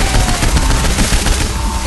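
Rapid automatic gunfire rattles loudly and continuously in the video game Saints Row IV, a dense burst of shots with no pauses.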